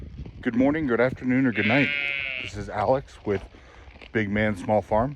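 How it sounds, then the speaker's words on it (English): Sheep bleat on a small farm in the evening, one drawn-out, high call rising clearly between stretches of someone talking close by, with other faint bleats mixed under his voice. "I'm not sure if you can hear that in the background, but the sheep are up and looking for attention"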